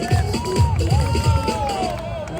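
Street performance crowd in Times Square cheering and whooping, loud and close, with shouted voices and a bright rising call riding over rhythmic thumps and general babble.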